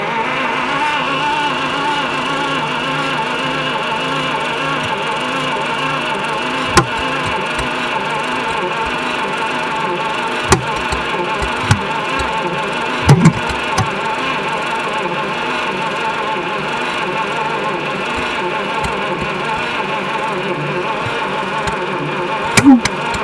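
A 1950 Buick Special engine that sat for 55 years runs steadily at idle on squirted fuel, a continuous even drone with a few faint clicks and knocks, close by and alone.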